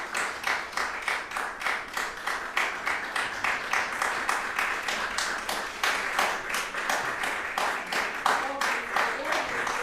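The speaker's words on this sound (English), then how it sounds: "Applause, you deserve applause. All the applause is for you." Audience applause at the 2021 Drahomán Prize ceremony, a steady dense clapping from a sizeable crowd that carries on without pause, with a faint voice or two underneath.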